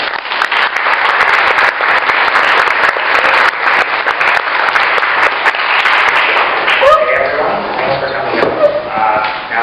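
An audience at a LogiCON 2013 convention talk bursts into sustained applause to welcome a speaker, dense and loud clapping for several seconds before tapering, with a voice beginning to speak at the end.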